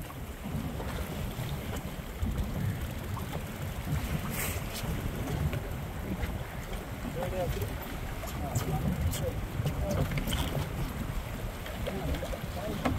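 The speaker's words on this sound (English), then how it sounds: "if you can't handle waves like this, wind, rain, tough conditions," Wind and waves buffet a fishing boat at sea off Neah Bay while fishing for rockfish and lingcod, a constant rough roar of gusts, wind noise and water slapping the hull, with voices talking over it.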